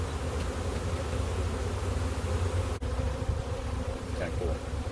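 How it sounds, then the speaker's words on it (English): A honey bee swarm in Galesburg buzzes in a dense, continuous drone close by, steady and fairly loud throughout the few seconds. "You see all the bees are kind of going down."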